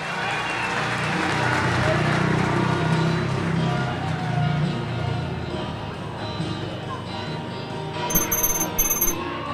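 A speedway crowd at a Poole Pirates versus Edinburgh Knockout Cup quarter-final cheers and applauds the race winner, a dense, sustained roar of voices with a commentator speaking over it.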